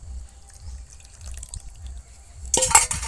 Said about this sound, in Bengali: এই জলটা এর মধ্যে দিয়ে দেব।